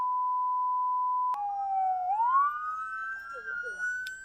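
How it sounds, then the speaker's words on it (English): A police car siren wails during a nighttime police chase, sweeping up in pitch and holding a loud, piercing tone after a steady electronic note at the start. "You can hear sirens wailing as police chase Tyndall"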